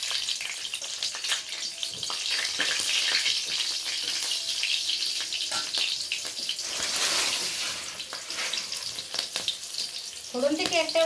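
Four halved green chillies dropped into hot oil for a small fish curry, giving a loud, dense, continuous sizzle that crackles unevenly, with a brief clatter near the end.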